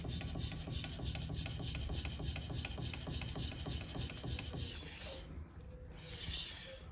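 Triumph Spitfire 1500 front wheel with bearing play is turned by hand, giving a steady rhythmic scraping and grinding rasp close up, with no talking.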